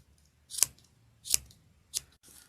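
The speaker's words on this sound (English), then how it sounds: "Just resting my scissors gently and using that as a guide, I am just going to cut off whatever is longer" Sharp scissors snip excess yarn off a pom-pom maker in three crisp, separate cuts about half a second to a second apart, close and fairly quiet, with no talking.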